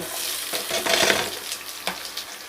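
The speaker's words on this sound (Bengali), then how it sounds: "এখানে পেঁয়াজ কুচি রেখেছিলাম, একটা বড় সাইজের পেঁয়াজ কুচিটা আমি দিয়ে দেব" A big chopped onion goes into hot oil with already-fried garlic, giving a soft, steady sizzle and a few scraping stirs and light clinks of a utensil against the pan.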